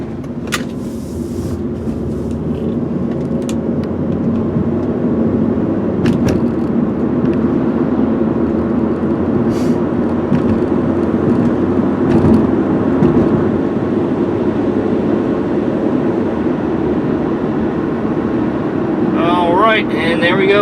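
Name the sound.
2001 Nissan Altima GLE sedan driving at about 55 mph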